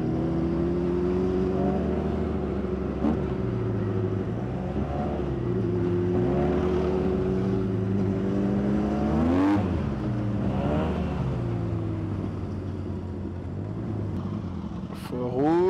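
A BMW S1000RR sport motorcycle engine drones close by in Dakar, repeatedly revving up and easing off in rising and falling sweeps over a steady roar.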